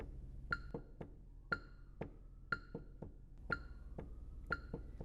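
Steady mallet strikes on marimba bars, with an extra quick sixteenth-note hit from a second mallet slipped in every four beats, close and clear.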